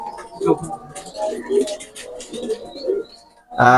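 A Teddy pigeon coos nearby after release, with several soft, throaty rolling coos in an uneven rhythm and a brief louder burst at the end.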